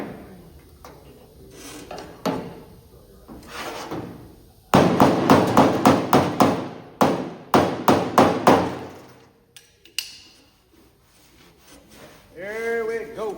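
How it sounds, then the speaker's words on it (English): Loud metal body hammer strikes on a 1984 Chevrolet C10 body panel, scattered taps at first, then a dense burst of rapid, ringing hammer blows with short pauses between runs, close by. "Now, with our body hammer,"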